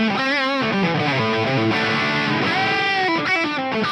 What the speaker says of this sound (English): This is the sound of my amp.